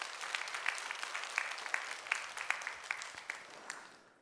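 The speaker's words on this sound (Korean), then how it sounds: "여러분, 이 친구들 위해서 박수 한번 해주셔요." A small church congregation at an early-morning service claps for Sunday school students, sparse distinct hand claps in a quiet, distant-sounding room, thinning out by the end.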